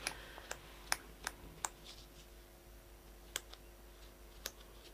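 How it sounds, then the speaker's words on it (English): Small nail scissors snip through craft material up close, making a series of sharp, quiet clicks spaced irregularly over a faint background hum. "So we're just going to snip right in."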